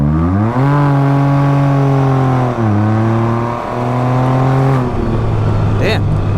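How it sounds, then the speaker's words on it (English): A Can-Am Ryker three-wheeler revs hard through a rear-tire burnout, its engine note climbing and dipping in loud, close sustained drones, then easing off near the end. "That was not a full throttle burnout. I was just rolling on it"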